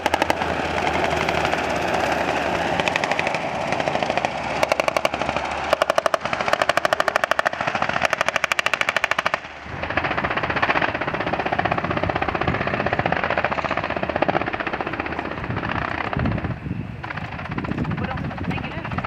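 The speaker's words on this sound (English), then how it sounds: "These two helicopters showing how to drop soldiers into an active battlefield." Two military helicopters drop soldiers into a mock battlefield while practice machine-gun bursts rattle nearby, rotor noise steady and loud throughout with sharp gunfire clusters in the first half and voices faintly mixed in.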